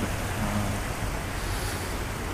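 Ganges river water rushes continuously at Vishnu Ghat in Haridwar, a steady, broad hissing roar of flowing water with no breaks, close and fairly loud.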